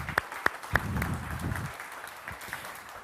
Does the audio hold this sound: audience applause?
yes